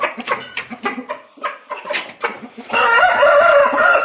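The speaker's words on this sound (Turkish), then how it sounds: "bu da yavaştan hazırlamaya başladığımız bir horozumuz" A rooster crows loudly and nearby in one long, strained call, preceded by a series of short clucks and squawks.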